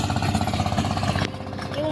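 A tractor engine chugs in a rapid, loud rhythmic throb nearby in a chili field while someone talks over it.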